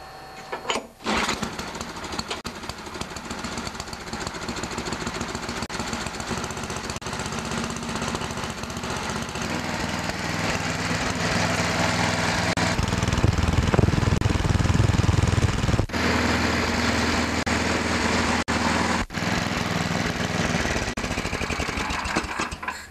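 A Tecumseh 8-10 HP snowblower engine with a freshly repaired recoil starter rope runs steadily after starting, a loud continuous close-up mechanical chatter that swells midway and carries on without talk.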